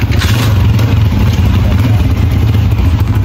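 A motorcycle engine runs loud and close with a steady low rumble and a rattling clatter, holding an even level without a clear rev-up.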